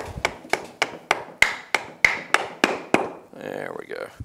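Metal hammer blows knock apart Yamaha YXZ1000R clutch parts during a gear reduction job, about ten sharp, evenly paced strikes ringing close and loud, followed by a brief scraping rattle.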